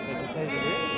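A male goat bleats once at a livestock market, a brief, wavering tonal cry under a busy background.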